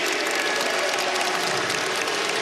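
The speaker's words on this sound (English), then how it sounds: "Listen to the crowd response to his play. They are digging it." A crowd at a college basketball game between PC and St. John's roars and applauds in a dense, steady wash of sound that fills the whole moment at high volume.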